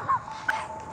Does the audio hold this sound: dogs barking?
yes